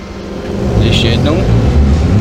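A trolleybus pulls away in the SIMT MHD bus simulator game: a steady low electric-motor hum with a faint rising whine, brief and continuous.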